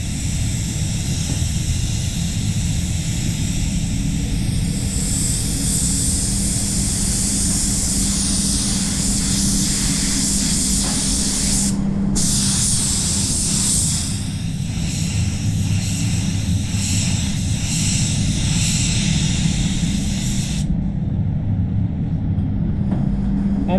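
A DV1 basecoat spray gun atomizes PPG Envirobase waterborne silver basecoat over panel edges, producing a steady, loud, continuous hiss of air and paint that runs almost unbroken, with a few short pauses.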